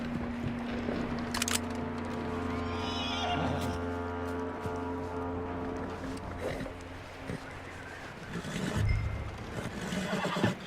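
A horse neighs loudly in a long whinny near the start in the video game Red Dead Redemption 2, with hoof clops, a low engine-like drone and scattered knocks around it.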